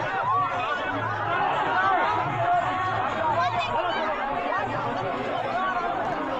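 Loud crowd at a Shiv Mahapuran religious discourse: constant dense chatter and babble from many people, with scattered laughter, steady and unbroken throughout.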